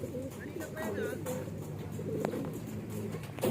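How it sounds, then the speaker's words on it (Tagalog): Soft racing pigeon cooing in short murmuring phrases, fairly close, over steady background noise with some voices nearby, at a pigeon training release. "Ibon na yan."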